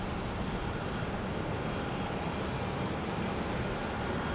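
Steady, even roar of an Alaska Airlines jet airliner at Phoenix Sky Harbor Airport's Terminal 3, a constant broadband engine rumble holding level throughout with no voices.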